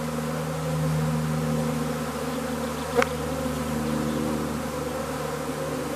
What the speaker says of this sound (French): Allez-y, allez-y, rentrez les filles. Rentrez dans la ruche.